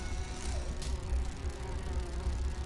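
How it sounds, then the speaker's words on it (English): Bees buzz steadily in Grim Fandango Remastered, a low, continuous droning hum that carries through the whole stretch without talk. "These bees don't seem too busy."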